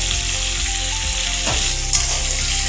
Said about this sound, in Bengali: আলুগুলোকে আমি খুব ভালো করে এবার ফ্রাই করে নেব।